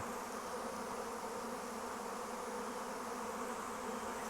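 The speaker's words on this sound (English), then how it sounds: "It's a sea of bees. And you see them just flowing in, and they're starting to pile up." A swarm of honeybees flows in, a dense, continuous buzzing drone of many bees that stays steady and fairly close throughout, with no talking.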